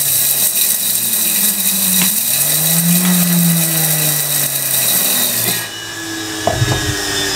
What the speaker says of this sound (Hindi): अब इसको हमने मोटा मोटा दरदरा सा कूट इसको ग्राइंड कर लेना है, ज़्यादा बारीक नहीं करना।